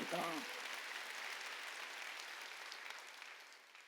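A church congregation at an Easter Sunday service applauds, steady clapping from many hands that fades slightly toward the end, after a brief voice at the start.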